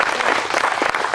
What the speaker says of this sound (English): So give yourselves a round of applause because that's fantastic.